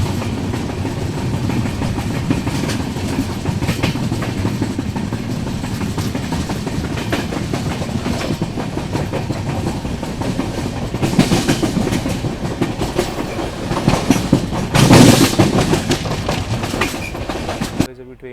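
The Trivandrum Rajdhani Express runs on its rails, heard from inside as a steady loud rumble with clickety-clack wheel beats and occasional louder jolts, a voice speaking briefly at times.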